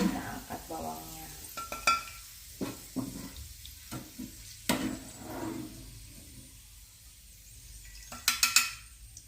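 Fried shallots scooped from a pan of oil after the stove is switched off, with scattered clinks and scrapes of a utensil against metal and a faint residual sizzle, near and intermittent.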